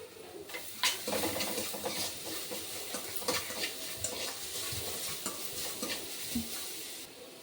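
Amla fried with salt is stirred in a pan, a spoon scraping and clattering over a steady close sizzle, with no voices.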